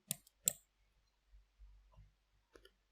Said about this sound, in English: Just you need to click this icon which is next to the Mongo dump utility.